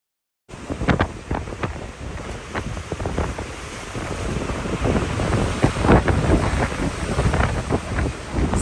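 Ocean surf rolls and crashes on the Maui coast under strong wind buffeting the microphone, a loud, continuous roar that builds after a brief silent start.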